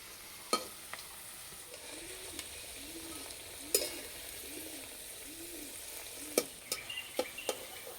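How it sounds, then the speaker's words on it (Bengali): Gentle, steady sizzling of potato and onion pakoras frying slowly in oil over low heat, fairly quiet, with a few sharp clinks and taps of a utensil scattered throughout. "আস্তে আস্তে জাল দেবো আর ভেজে নেব"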